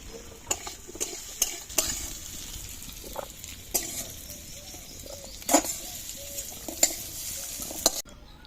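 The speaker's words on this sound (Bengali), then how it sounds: "আলুটা লাল করে ভাজা হয়ে গেছে এবার তুলে দেবো" Potatoes frying in oil in a home kitchen, a soft continuous sizzle broken by scraping stirs and clinks of a utensil against the pan, close and fairly quiet.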